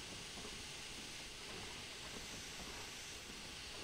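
A steam locomotive in the Derail Valley train game venting steam as a steady, dense hiss that holds evenly from start to finish, fairly quiet and with no voices over it.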